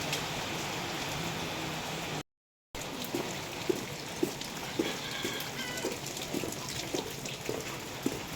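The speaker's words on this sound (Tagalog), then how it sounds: "malakas nga po dito ang ulan ngayon po" Steady heavy rain pours down in a constant hiss, with drops pattering on a surface nearby; a brief silent gap interrupts it early on.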